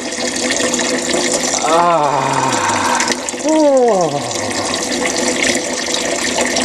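Tap water running into a Ziploc bag while preparing a zip-lock omelet, a continuous splashing fill with a voice letting out brief exclamations over it.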